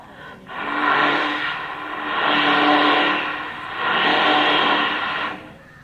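A person vocally imitates an aeroplane passing, a sustained whooshing roar in three swelling waves, loud and close with no other talk.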